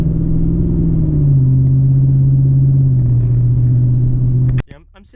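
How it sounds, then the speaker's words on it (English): A 430-horsepower V8 in a 2013 Hyundai Genesis 5.0 R-Spec idles at a stoplight, a steady, smooth low rumble that dips slightly in pitch, then cuts off abruptly near the end as the engine stops. "you can really forget that this is a 430 horsepower V8"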